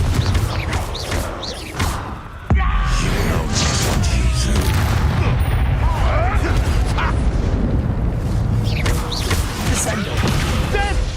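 A Confringo blasting spell explodes in Hogwarts Legacy, a sharp blast landing about a third of the way in amid dense, continuous fantasy combat noise and rumbling effects.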